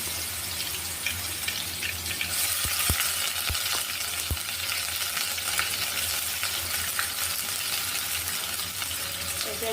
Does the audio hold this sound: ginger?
yes